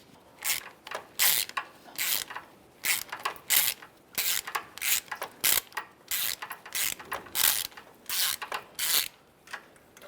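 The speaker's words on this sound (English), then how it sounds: "We'll start removing these mounting nuts and studs as well." A ratchet removes exhaust manifold mounting nuts and studs on a 2003-2011 Mercury Grand Marquis, giving close, crisp bursts of rapid clicking in an uneven rhythm with short pauses between strokes and no talking.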